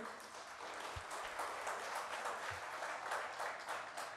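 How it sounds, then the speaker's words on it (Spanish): Attendees at a public deliberation and citizen evaluation meeting give a round of applause, quiet and somewhat distant, sustained clapping from a crowd with an even, continuous texture. "Un aplauso, por favor"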